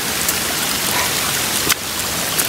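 Steady rain falling during a mountain hike up the Piton des Neiges on Réunion Island, a dense even hiss of drops close around, with one brief louder patter near the end.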